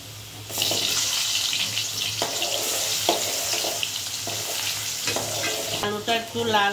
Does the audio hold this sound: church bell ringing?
no